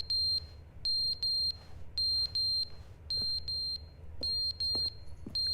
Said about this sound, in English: What is that incessant beeping?